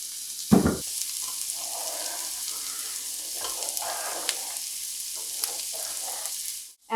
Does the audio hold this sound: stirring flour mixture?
yes